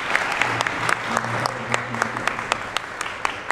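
Audience applause fills an auditorium after a presidential speech at a press conference on child marriage, dense steady clapping with a few louder claps standing out and a faint low voice underneath.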